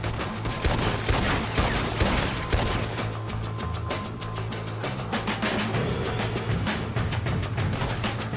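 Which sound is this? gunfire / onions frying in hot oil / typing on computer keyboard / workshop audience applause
gunfire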